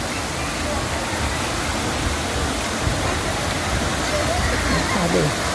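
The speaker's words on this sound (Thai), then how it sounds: "มีน้ำตกด้วยนะคะ" A waterfall at the entrance of the Black Forest Cafe in Pattaya gives a loud, steady rush of falling water the whole way through. A voice speaks faintly under it.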